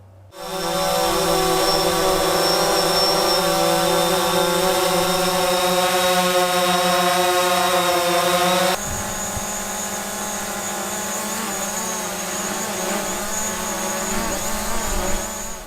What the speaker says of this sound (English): the noise of these drones